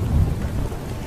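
Heavy monsoon rain with a deep rumble of thunder in a Vietnam War video game set in jungle-covered hills, a dense, loud wash of noise with no voices.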